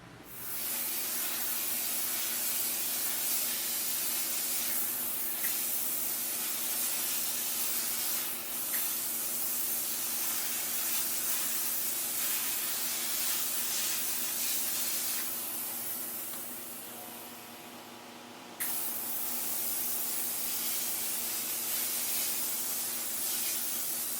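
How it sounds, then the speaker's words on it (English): A steam cleaner sprays steam with a rinseless cleaning chemical onto a 1937 Hudson Terraplane, producing a loud, close, continuous hiss that dips briefly and then surges back. "Combine that with steam, and you can pull off serious amounts of dirt."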